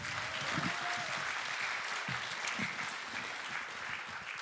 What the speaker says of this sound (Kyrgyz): Улукбекке кол чабуулар болсун.